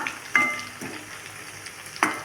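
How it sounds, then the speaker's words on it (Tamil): Sliced onions soften in hot oil in a pan for a turkey berry kara kuzhambu. A soft, steady sizzle runs throughout, broken by a few sharp spatula clinks against the pan. "ஒரு முக்கால்வாசி வெங்காயம் வந்து வதங்கினா போதும் அதிகமாக வதங்க வேண்டாம்"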